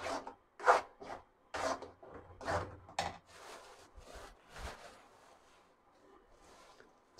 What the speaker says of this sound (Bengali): ওকে, অনবরত নাড়তে হবে।